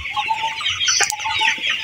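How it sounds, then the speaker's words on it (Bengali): Small, 45-day-old Sonali chickens cluck and chatter together at close range in a short, busy burst of overlapping calls. "এগুলো ছোট মুরগি"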